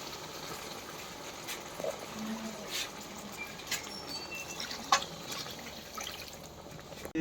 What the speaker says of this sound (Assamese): পানী দিলোঁ।